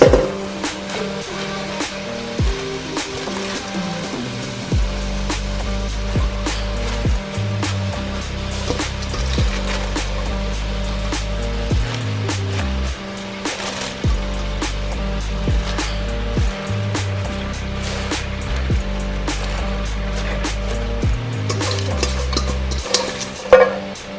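Collard greens stirred and cooking in a pot for a meatless recipe, with steady scraping and stirring noise, soft sizzling and repeated low thumps of the spoon against the pot, close and moderately loud throughout.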